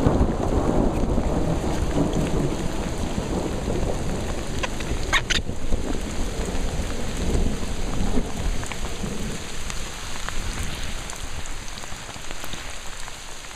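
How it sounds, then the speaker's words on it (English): Heavy rain pours down steadily on a mountain trail while low thunder rumbles through the downpour, the storm easing slightly toward the end. "we got us a storm going here"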